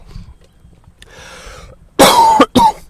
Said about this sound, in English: if I cough a little bit more than usual